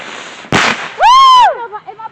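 July 4th fireworks rocket bursting, a sharp loud bang followed by a rising then falling whistling screech, then fainter crackles trailing off at close range.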